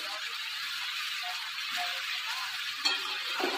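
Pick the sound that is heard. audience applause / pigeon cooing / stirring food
stirring food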